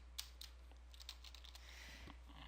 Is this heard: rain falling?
no